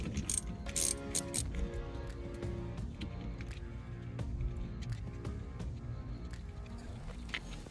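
A ratchet wrench removes a 13mm nut from a battery on a Polaris General utility vehicle with a rapid clicking pawl in short bursts and steady turning, close and moderately loud with no talk.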